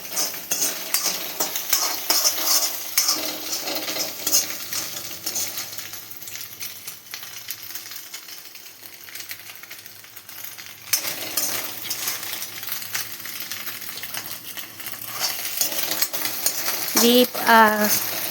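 Ginger paste frying in a pan on high gas, a steady broadband sizzle with intermittent scraping and clinking of a utensil stirring, moderately close, a brief metallic rattle near the end, no talk.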